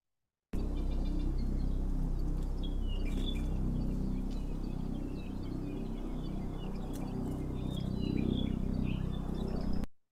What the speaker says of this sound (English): birds are still calling, but these lines right here, these are actually wing flutters